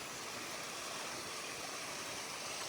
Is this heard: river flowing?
yes